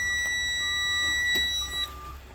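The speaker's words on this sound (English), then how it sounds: "turn it back to the on position, just the on position where it beeps." A truck's ignition warning beep: a steady high-pitched electronic tone holds for nearly two seconds and then cuts off, with faint background noise continuing underneath.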